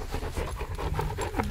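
A dog panting in quick, steady breaths close by, filling the short moment with rhythmic huffs over a faint background.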